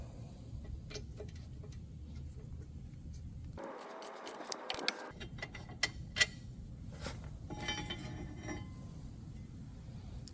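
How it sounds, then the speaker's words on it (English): A small breaker ratchet fitted with a 12-point Torx socket works on the front brakes of a 2014-2021 Jeep Cherokee, giving quiet metallic clicks, clinks and a brief burst of ratcheting amid light handling noise. "So we'll put our socket on our little breaker ratchet"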